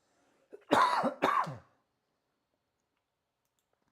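Two sharp, close coughs in quick succession, followed by silence.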